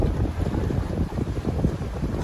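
Wind gusts and lapping waves sound at the shore of the Lam Pathao dam reservoir in Chaiyaphum, with a rushing, buffeting wind roar over low, uneven water movement and no voices.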